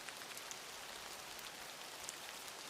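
Steady rain falls on a surface, a dense, even hiss of drops with occasional louder individual taps, continuous and without any voices.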